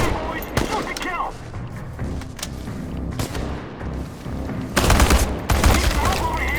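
Gunfire crackles in the video game Chernobylite, with bursts of rapid shots and heavier booming volleys, loudest toward the end, mixed with shouted voices.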